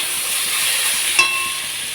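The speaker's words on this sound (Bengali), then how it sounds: "এবার সর্ষে পোস্তটা দিয়ে দেবো।" Mustard-poppy paste goes into a pan of frying tomato paste, under a steady loud sizzling hiss with a brief clink partway through, and no voices.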